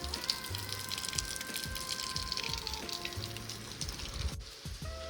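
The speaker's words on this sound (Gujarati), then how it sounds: "અત્યારે વરસાદ હજી વયો નથી ગયો. તો જોવો વરસાદ." Steady rain falls outside during a monsoon downpour, a continuous patter of drops on surfaces with occasional louder splashes, heard close and fairly soft with no talk.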